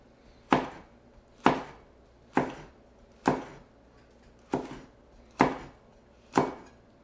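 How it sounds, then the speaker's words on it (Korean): A knife slices a chili pepper diagonally on a cutting board in seven evenly spaced, crisp chops about a second apart, close and clear with no talk. "고추는 반개, 어슷썰기로 조금만 넣어줄게요."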